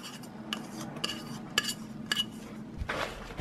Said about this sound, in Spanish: Mezclamos la zanahoria.